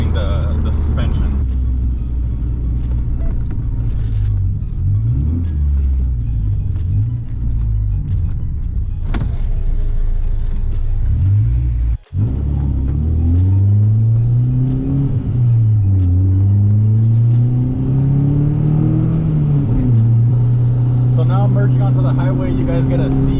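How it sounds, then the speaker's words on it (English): Steady in-cab drone of a minitruck with cantilever suspension and coilovers cruising, a low engine hum and road rumble that rises and falls slightly, with talking over it. "you guys get to see what it sounds like in the cab at cruising speed"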